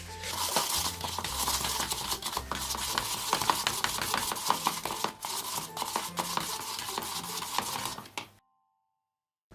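A spoon scrapes and taps repeatedly against a bowl while creaming butter and sugar together for an apricot and almond tart. The strokes come quickly and irregularly, close up, and end abruptly in silence.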